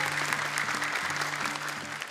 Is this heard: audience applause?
yes